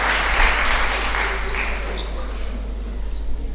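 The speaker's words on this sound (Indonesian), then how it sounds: "Tepuk tangan." A Catholic parish church congregation at a youth-day opening breaks into continuous applause, an even, steady round of clapping over a low electrical hum.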